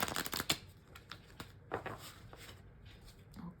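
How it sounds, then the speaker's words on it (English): Tarot cards are shuffled by hand, a rapid burst of riffling snaps at first, then scattered softer card slaps and shuffles, close and fairly quiet. "these cards are a bit hard to shuffle"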